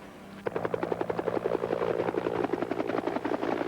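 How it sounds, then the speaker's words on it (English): Helicopter passing overhead, with a rapid, rhythmic rotor chop that starts abruptly and continues steadily and fairly loud, with no voices. "The chopper's back. The helicopter can't be a coincidence."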